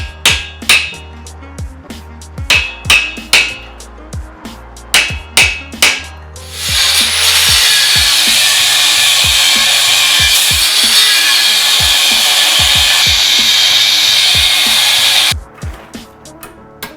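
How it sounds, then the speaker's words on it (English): Chiseled steel pieces for a Viking axe are shaped, starting with a series of sharp metallic knocks, then a loud continuous grinding hiss for about eight seconds before the knocking returns. "I need to grind them to fit."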